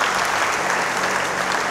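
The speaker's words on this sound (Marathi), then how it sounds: "सन्माननीय पोलीस दलातले सर आले त्यांच्यासाठी एकदा जोरदार टाळ्या होत्या" An audience at a guidance camp lecture applauds loudly with dense, steady clapping that fills the hall for the whole stretch, with no voices over it.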